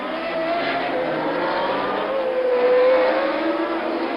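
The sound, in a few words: Formula 1 race cars, 1979 Long Beach Grand Prix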